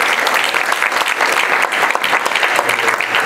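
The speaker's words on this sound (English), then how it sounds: "Probably give a round of applause to Jesse." An audience at a city comprehensive plan meeting applauds steadily, a dense, loud wash of clapping from many hands that holds throughout without a break.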